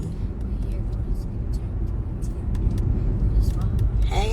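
Cars drive along a road in the morning, heard as a steady low rumble of engines and tires with passing swells, while soft clicks and a short sound near the end break through.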